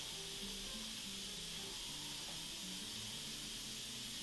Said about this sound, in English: You hear the sizzle?